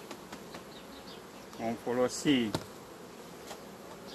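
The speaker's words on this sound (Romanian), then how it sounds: "scuturăm aceste albinuțe" Honey bees buzz as they are shaken off a hive frame during a colony merge, a soft steady hum with a few louder, brief buzzing bursts near the middle, and a voice speaking briefly at the start.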